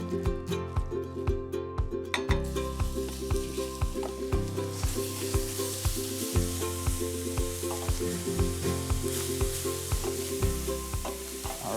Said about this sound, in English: we're going to cook it in this pan over there